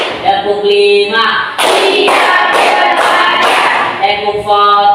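Schoolchildren in a classroom clapping their hands together in a counted rhythm routine, several loud broadband bursts of claps alternating with group chanting voices nearby.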